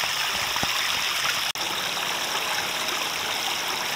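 Water trickling and splashing steadily through a homemade waterfall box filter packed with about 20 kilograms of filter media, a constant close rushing wash with one brief dropout midway.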